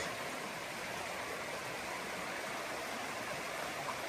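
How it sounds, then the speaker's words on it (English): A creek flows beside the Appalachian Trail, a steady broadband rush of water that holds constant throughout, with no voices heard. "Trail has been following this beautiful stream for quite some time, probably a mile."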